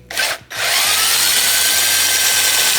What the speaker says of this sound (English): take your little gun and slowly drive in these little bolts here